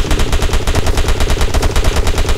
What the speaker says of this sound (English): this enemy character is shooting at me